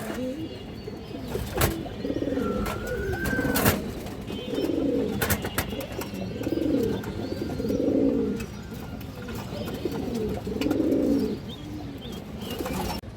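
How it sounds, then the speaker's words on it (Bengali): Female pigeons of a Budapest breed coo in repeated, throaty rolling phrases from close by, several calls spaced across the stretch, with occasional clicks, knocks and a brief chirp in the background. "অনেক সুন্দর একটা মাদি কবুতর"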